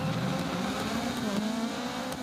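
Race car in a racing video game, engine humming with a rising pitch sweep and steady tone held close, a few faint clicks on top, no voices.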